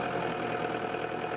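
A farm tractor's engine running at a steady idle, a continuous broadband mechanical drone with a low knocking texture, loud and unbroken.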